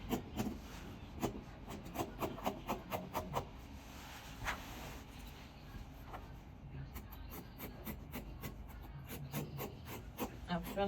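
Scissors snip and rub through fabric while trimming a playsuit neckline, a quick series of short, close cuts in uneven rhythm over a soft continuous rasp.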